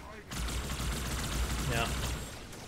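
Continuous Covenant shield turret fire in Halo 2, a dense, steady barrage of rapid energy shots lasting the whole stretch, loud and close with game battle noise layered around it.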